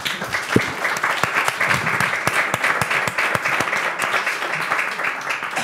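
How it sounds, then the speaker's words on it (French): An audience applauds the speaker after a talk on carbon neutrality, a crisp round of many hands clapping with distinct individual claps standing out, steady and fairly close, with a few murmurs beneath. "on peut l'applaudir, je pense"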